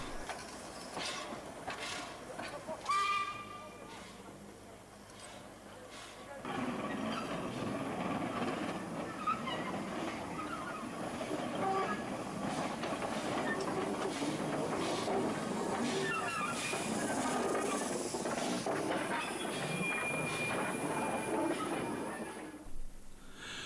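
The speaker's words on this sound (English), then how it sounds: "662 makes her way into the station, then detaches and runs forward for water." LBSCR Terrier steam tank locomotive No. 662 draws into a station, giving a sharp early hiss and then a long, steady rumble and clatter of wheels and steam that holds at moderate loudness until it fades at the end.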